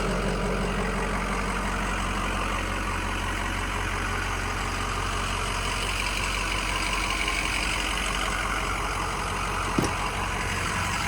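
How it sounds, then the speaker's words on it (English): A stock 2007 Ford F250 Lariat with the 6.0 Powerstroke diesel idles steadily and quietly up close, a continuous even rumble with no revving, one faint click near the end. "Thing runs real quiet. It's probably because it's all stock."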